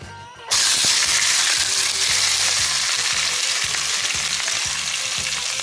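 Spices tempering in hot oil in a pan during a roadside meal on a cycling journey, a loud, dense sizzle that bursts in abruptly and continues steadily with rhythmic stirring clatter underneath, close by and without talking.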